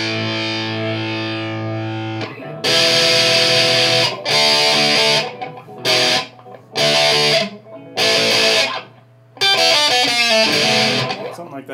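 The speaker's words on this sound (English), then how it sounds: "We got a lot of distortion going on." An electric guitar runs through a heavy metal distortion pedal with the mids cut, giving a scooped tone. A sustained chord rings first, then loud, chopped bursts of saturated riffing are separated by short silences.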